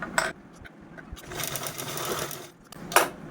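A sewing machine stitches a handle onto a homemade cloth bag, running in a steady mechanical burst of close, whirring needle strokes, with short clicks and pauses at the start and end.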